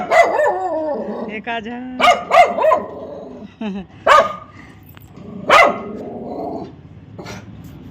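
A dog near a home barks in sharp bursts and growls between them, loud and close, while people talk around it.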